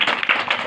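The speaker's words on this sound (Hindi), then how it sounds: "ताली बजा दे तनी तो हाथ" Hands clap several times in a quick, close, brief burst at an Indian street magic show, with no talk over the claps.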